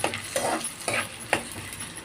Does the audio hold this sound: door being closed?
no